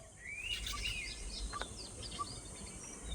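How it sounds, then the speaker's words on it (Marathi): A flock of birds perched in trees beside a river at dawn gives a quiet scatter of chirps and thin whistled calls, some rising and sliding, over a soft, steady background hush. "इथे पक्ष्यांचा थवा अचानक येऊन बसला आहे. बघा सगळे पक्षी झाडावरती"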